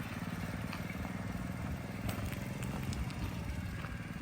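A custom mini street bike on its stock engine runs steadily nearby, a continuous low rumbling drone with a rapid uneven pulse and no voices.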